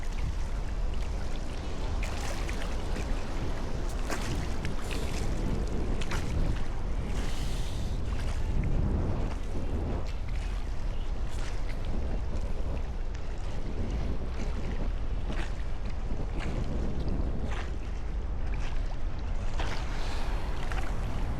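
Wind gusts and moving water current surround a rider out on open water near rocks, a steady, close rushing and buffeting with sloshing waves throughout and no voices.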